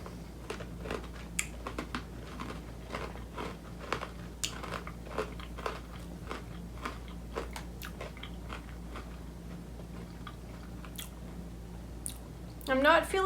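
Snyder's hot wing pretzel bites are bitten and chewed close to the mic, giving soft repeated crunches and squishy mastication throughout, with a brief louder rustle near the end.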